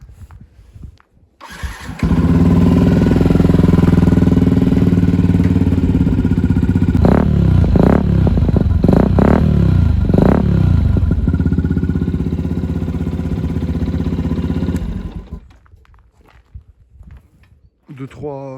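A 600 motorcycle is started up with a short cranking burst and then settles into a loud, steady close-up idle with a few quick throttle blips before it is shut off.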